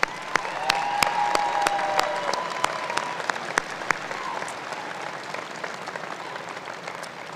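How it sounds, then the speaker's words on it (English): Graduation audience at a technical college giving a round of applause, sustained crowd clapping with sharp individual claps, a faint tonal whistle or hum sounding briefly early on, loudness easing gradually over several seconds. "Can we give them and their faculty and folks a round of applause?"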